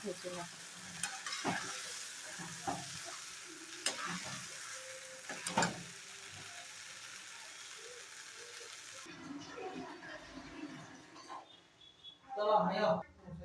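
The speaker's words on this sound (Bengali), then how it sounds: "এবার চিলিটা ভাজা" Chili sizzles and crackles steadily as it fries in a pan, with occasional stirring scrapes and a louder burst near the end.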